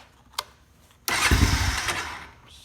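A Honda Foreman 450 ATV that was sunk in a creek hole and is now running without oil cranks and then catches. A brief click comes first, then the engine bursts into a loud, rough, close running roar that fades slightly as it settles.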